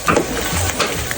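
Garlic sizzles as it drops into a hot pan while ginataang puso ng saging is being cooked, a close, steady frying hiss with a few brief stirring clinks near the start.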